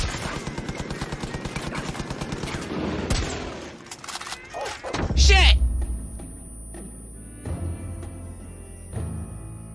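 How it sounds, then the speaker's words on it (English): A Blood Dragon DLC sniper rifle fires in a video game amid a dense stretch of rapid gunfire, followed by a heavy crack and low boom, then sparse shots under quieter game sounds and talk. "These DLC guns, yeah. That Blood Dragon sniping rifle's really nice."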